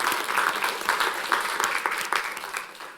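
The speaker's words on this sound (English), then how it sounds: "Give yourself a round of applause." An audience at the UK's first young people's care careers conference bursts into sustained applause, a dense, even clapping that stays loud and steady throughout.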